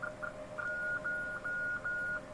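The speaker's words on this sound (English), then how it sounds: "What is those 4 high-pitched tones?" Juliet Brailler embosser sounding a run of high-pitched electronic status tones, four separated beeps over a steady low hum, near and clear with no talking.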